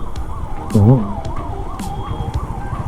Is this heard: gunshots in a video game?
no